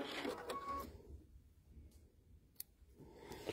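A Baby Lock Altair 2 sewing machine trims its thread, producing a brief whirring buzz and a few small mechanical clicks near the start, followed by quiet with a couple of faint ticks.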